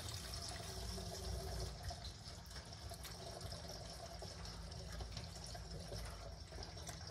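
Engine oil drains from a 2011 Ford Ranger 2.3L into a drain pan, a continuous faint pouring and splashing of liquid that stays steady throughout with no talking.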